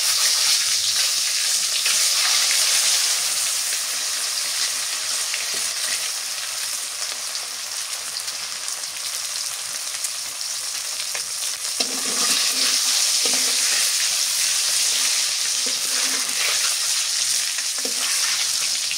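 Eggs and a splash of milk sizzle loudly in hot oil in a pan for a village-style egg curry, a steady, close frying hiss with occasional stirring scrapes and swells.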